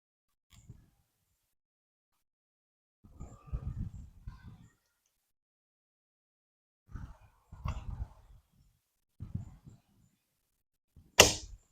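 Arrow loosed from a Daylite Majesty 50-pound bow in Korean bankkakji practice, a 32-inch, 300-spine arrow with a 150-grain point; several soft thuds and rustles lead to one sharp, bright crack near the end.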